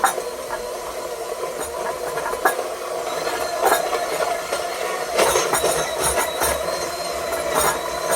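An electric hand mixer whirs steadily while creaming butter and sugar for Christmas biscotti, with a rattling, clattering mechanical drone and scattered louder clicks throughout, with no talking.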